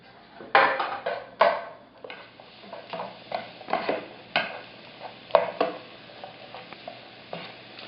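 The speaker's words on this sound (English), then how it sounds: "Want to stir this really good. Get all the butter to cover all the mushrooms and onions." A spoon stirs butter, mushrooms and onions in a hot pan over medium-high heat, giving irregular scraping and clinking strokes against the pan over a soft sizzle, close and distinct.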